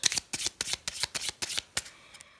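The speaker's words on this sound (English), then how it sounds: "do overhand shuffles" A deck of playing cards being overhand shuffled, a rapid run of about a dozen crisp close riffling slaps in an even rhythm that tapers off at the end.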